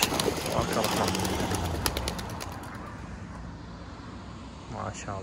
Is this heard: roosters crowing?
no